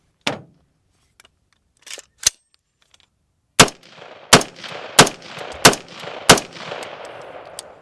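A rifle firing from a test magazine filled with sand, a few isolated sharp shots then a quicker string of about six loud cracks with mechanical clatter, close and without speech.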